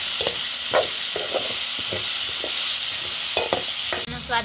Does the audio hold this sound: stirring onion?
yes